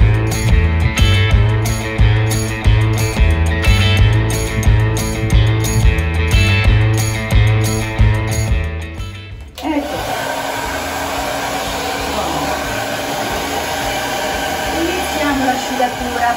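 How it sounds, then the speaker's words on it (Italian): Music plays first, then a loud hair dryer blows steadily as wet dogs are dried after a bath, a constant close, rushing whir. "bagnetto ultimato e adesso è arrivato il momento del phon."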